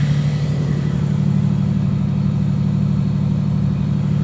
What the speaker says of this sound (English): We're gonna let the car warm up and see what readings I get.